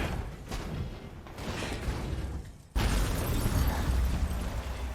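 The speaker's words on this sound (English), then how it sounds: "Cool guys don't look at explosions." An explosion in Devil May Cry V hits as a sudden loud boom that cuts in sharply and gives way to a sustained rumbling wash of noise.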